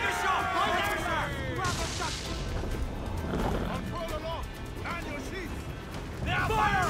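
Ship cannons fire in Assassin's Creed IV: Black Flag naval combat, with repeated booming blasts and crashing impacts amid a steady roar of battle, while voices shout over the fighting.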